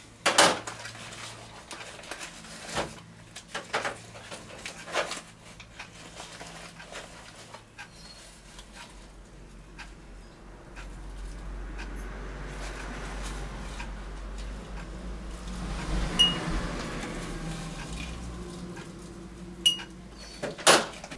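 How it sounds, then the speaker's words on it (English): Loose black tea leaves spooned into a jar in a kitchen, heard as scattered light clinks and taps of a metal teaspoon against glass amid quiet room noise, with no talk. "I add 3 teaspoons of tea to the jar."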